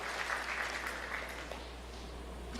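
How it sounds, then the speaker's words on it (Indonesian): A church congregation applauds during an Indonesian sermon, a soft, fairly distant wash of clapping over a low steady hum, quiet throughout. "Berikan tepuk tangan."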